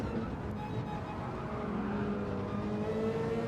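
A Gr3 race car in Gran Turismo 7 accelerates under steady throttle, its engine note a continuous, fairly quiet drone rising gradually in pitch with no speech over it.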